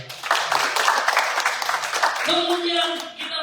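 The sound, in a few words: congregation clapping for the speaker in church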